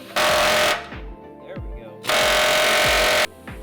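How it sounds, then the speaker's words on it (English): An air chisel pushes a differential bushing sleeve into a Lexus IS300 subframe in two loud, harsh bursts of rapid hammering, separated by a pause with clanks and low voice sounds. "So let's see if the air chisel method will work."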